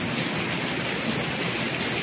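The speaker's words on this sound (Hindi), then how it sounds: "बहुत तेज बारिश हो रही है" Heavy rain pours steadily, a dense, constant hiss of drops hitting surfaces close by, with no voices.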